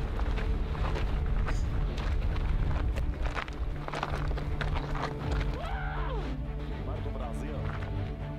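A person imitates a horse with a short voiced whinny and clicking, hoof-like sounds, heard close amid ongoing conversation and wind noise outdoors.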